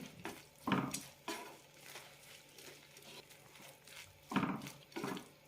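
A spoon scrapes and knocks through oats upma in a pan in a few separate bursts, with quiet gaps and a faint low hum between the strokes.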